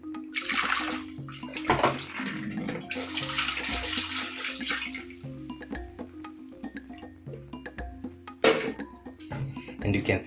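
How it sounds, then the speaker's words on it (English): Running water splashes and gushes in bursts as fish for curry is rinsed, with clinks of a pot, over steady music and a person talking. "Then I'm going to rinse this with some water."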